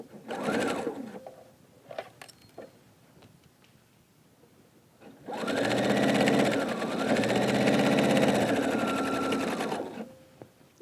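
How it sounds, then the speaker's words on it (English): A sewing machine runs a long seam in one close, loud continuous whir lasting several seconds, after quieter handling clicks and a faint soft voice at the start. "Isn't it nice to sew a nice long seam without having to deal too much with match points?"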